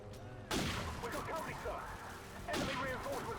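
Rapid gunfire from a battle in Call of Duty 4, two loud bursts of shots with reverberant fire and mechanical clatter in between, close and dense.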